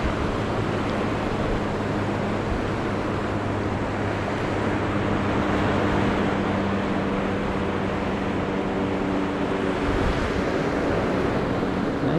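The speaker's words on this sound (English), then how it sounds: "actually has surf. Because it faces the open ocean." Ocean surf rolls in at Nantasket Beach in Hull, which faces the open sea, a steady wash of breaking waves heard close and fairly soft, blended with wind noise and a faint low hum.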